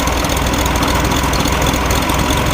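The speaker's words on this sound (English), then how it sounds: "Let's crank this baby up. Hear it rumble" A 1960s Chevrolet Monza with a four-carburetor setup and turbo cam idles close by, a loud, steady, lumpy rumble with no voices over it.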